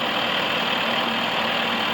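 Idling engine of an LL 5106 LS power shuttle loader, a steady low rumble that holds even and close throughout with no talk.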